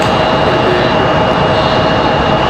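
An airliner departing Raleigh-Durham for Nashville, a loud, continuous jet engine roar with a steady whine above it, close and unbroken.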